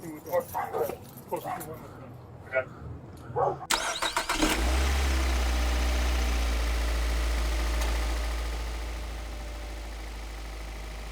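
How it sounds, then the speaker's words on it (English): A car engine bursts into a loud, sustained roar as a police pursuit begins, holding steady close by after shouting voices and dog barks earlier. "The engine roars as the pursuit is initiated."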